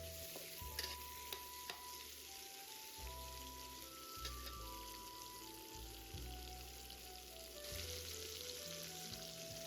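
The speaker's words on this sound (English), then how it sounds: "Add the onion pieces to the wok and stir until they turn golden brown." Onion pieces stir-fry in a wok for a beef tendon dish, giving a steady, rain-like sizzle with repeated rhythmic scraping of the spatula against the metal.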